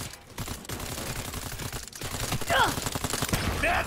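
Gunfire in Cyberpunk 2077, rapid bursts of shots with short pauses, loud and close, mixed with sharp metallic pings and game effects.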